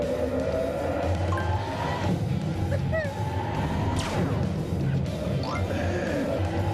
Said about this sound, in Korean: 전투기가 음속을 돌파할 때 나는 그 사운드가 변속할 때마다 뒤에서 이렇게 강렬하게 낚아챕니다.